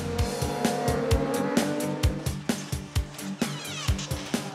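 A racing motorcycle circles the track in 24-hour endurance qualifying under strong wind, its engine revving hard with rapid gear shifts and repeated throttle bursts, loud and close throughout.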